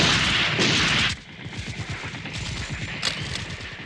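A volley of gunfire in the anime film Iria: Zeiram, opening with a loud, dense crackling burst before easing into a steady rattle of rapid shots that carries on to the end.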